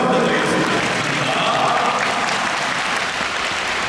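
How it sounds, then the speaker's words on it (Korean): Sustained applause from an audience at a skating all-star event in an ice rink, a dense, steady wash of clapping holding at an even level throughout without fading. "박수 한번 부탁드리겠습니다"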